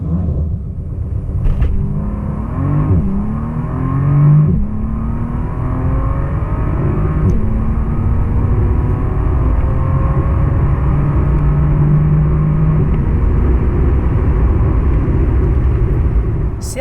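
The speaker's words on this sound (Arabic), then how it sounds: "شوف التسارع." A 2019 Bentley Continental GT accelerates hard, a steady loud engine roar with rising tones as it pulls through the gears, heard from inside the cabin with no talk.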